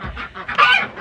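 Chickens cluck nearby in a short burst of rough, squawking calls.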